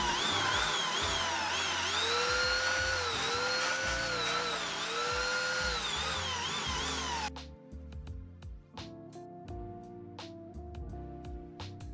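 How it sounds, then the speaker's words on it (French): An electric sander with abrasive paper whines loudly and steadily against the wood of a trunk's banding, then cuts off, leaving quieter scattered clicks and taps. "j'utilise une ponceuse à papier abrasif pour obtenir une finition plus lisse et plus propre"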